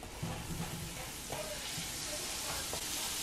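Pancakes frying in a pan at home, a steady soft sizzle running throughout with faint clinks and stirring scrapes, close and fairly quiet.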